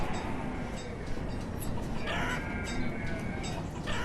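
Chickens clucking in the village-building game Banished, a soft steady fowl chatter with occasional higher calls over a continuous ambient game background, no talking.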